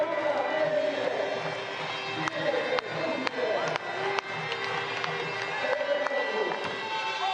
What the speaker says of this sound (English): Scenes of celebration at the end of the second.